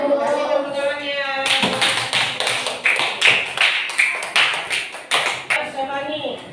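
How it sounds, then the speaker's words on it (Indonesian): Third-grade pupils in an elementary school classroom clap together in a quick, rhythmic patterned beat, loud and close, with a teacher's voice talking briefly before and after. "Kasih tepuk tangannya"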